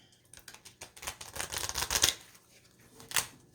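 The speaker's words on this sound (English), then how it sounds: "I'm trying to get a good shuffle on these." Tarot cards being shuffled by hand, a run of soft riffling and flicking bursts building over a couple of seconds then a final sharp snap, close and fairly quiet.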